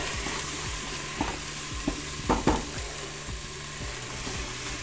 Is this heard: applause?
no